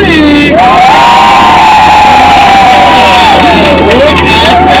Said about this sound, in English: give a great big loud cheer like you had the time of your lives